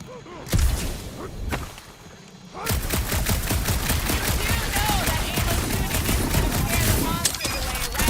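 Gunfire from shooting in the Guardians of the Galaxy video game: a few separate loud shots, then a dense, continuous rapid-fire volley that runs for several seconds, with voices talking over it.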